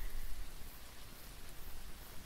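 Steady rain falls outside a tent at a campsite, a soft, even wash of patter with no distinct drops standing out and no voices.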